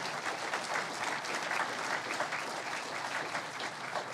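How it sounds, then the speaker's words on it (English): Applause from the audience for standing Leadership Paducah class members at the Paducah Area Chamber 2021 annual meeting, a sustained, even round of many hands clapping in a large room. "Round of applause for them."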